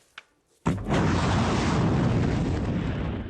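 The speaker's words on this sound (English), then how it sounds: "This is the sound of a war escalating" Iranian missile launch against Israel: a brief faint pop, then a sudden loud roaring blast that sustains as a broad rumbling rush, heard from a distance.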